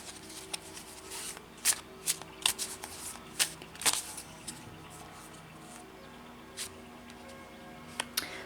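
Close-up shuffling of a card deck for a past-life reading, with a run of crisp riffling bursts and soft flicks, fairly quiet and with no talking.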